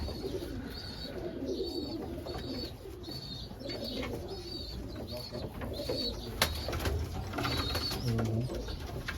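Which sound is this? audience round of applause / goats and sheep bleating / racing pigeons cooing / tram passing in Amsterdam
racing pigeons cooing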